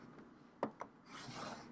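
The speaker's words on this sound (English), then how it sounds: "you're going to score at 3 inches, and then again at 4 1/2 inches" Scoring tool dragged along paper on a scoring board for a note card holder: two short sharp scrapes followed by a longer, steadier rasping stroke, quiet and close, with no talk.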